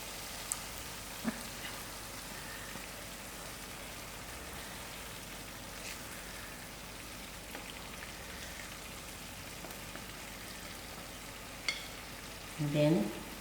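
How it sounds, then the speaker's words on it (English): Chicken livers frying in a hot spicy sauce, a faint, steady crackling sizzle with scattered pops and a brief louder clatter near the end. "Now my sauce is actually done, so I'm going to throw in my livers"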